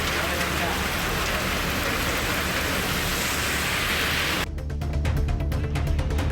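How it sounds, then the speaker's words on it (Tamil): Heavy summer rain with thunder pours steadily as a dense, loud hiss, shifting partway through to a rougher, spattering patter, with no voices audible. "சுமார் அரை மணி நேரத்திற்கு மேலாக கோடை மழை இடியுடன் பெய்ததால் வெப்பம் தணிந்து குளிர்ச்சியான சூழல் நிலவியது."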